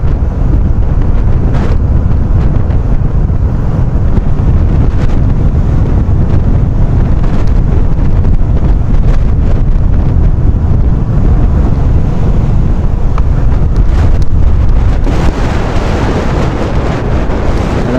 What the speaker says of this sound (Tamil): காற்று கொஞ்சம் பலமாக அடிக்குது, கண்ணுலேயே அடிக்குது.